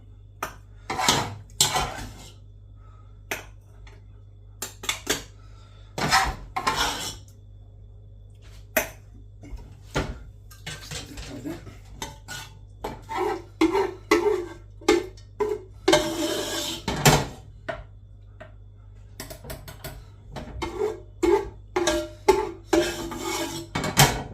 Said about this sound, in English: I'll put the lids on now.